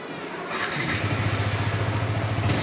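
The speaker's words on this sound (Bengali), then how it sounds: "লাগিয়ে এখন আমরা গাড়িটা স্টার্ট করব।" A Yamaha R15 V3 motorcycle, just repaired after a rat chewed its injector wire, cranks and catches, then settles into a steady, close, pulsing idle.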